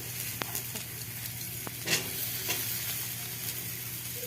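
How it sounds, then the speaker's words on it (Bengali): Potatoes fry with onions in a pan, a close, continuous sizzle with a low hum beneath and occasional clinks and scrapes of stirring. "এবার আলুগুলো দিয়ে দিলাম, আলুগুলো ভেজে নেব।"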